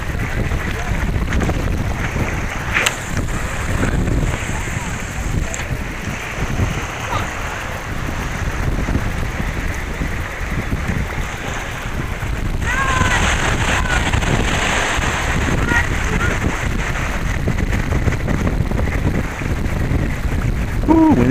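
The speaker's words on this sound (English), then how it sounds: "Ooh, windy." Strong wind buffets the microphone continuously, a loud broadband roar with water lapping underneath.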